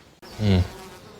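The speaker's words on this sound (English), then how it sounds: "It's just bees." A brief, loud buzzing swells and fades within a second, like an insect passing close by.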